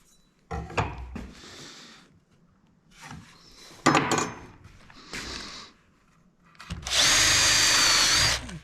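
A power drill boring holes through wooden porch swing boards in several short bursts, each whining burst rising in pitch, with knocks and handling clatter between them and a long loud final run, no talking.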